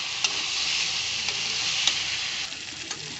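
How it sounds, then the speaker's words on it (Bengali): Spices frying in oil in a pan while being stirred, a continuous close sizzle with occasional faint scraping taps, no voices. "হালকা দেখো নেড়ে চেড়ে নিয়েছি।"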